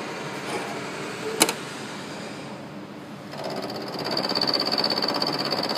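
End mill on a milling machine doing peripheral cutting, a steady grinding, chattering whir that rises in intensity and pitch midway as the cutter engages the workpiece, with a sharp clank near the start.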